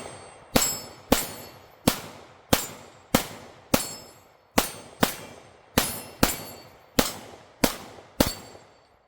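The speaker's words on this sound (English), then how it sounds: "We're going to take some shots here at the pistol steel and just kind of show you how they do." Glock pistol loaded from a UTG 15-round magazine fires at steel targets, fourteen sharp shots in a steady rhythm, each crack ringing off the steel with a metallic clang and short decay, loud and close with no talking.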